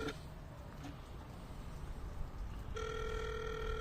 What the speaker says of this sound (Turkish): Zil panelimize bastık.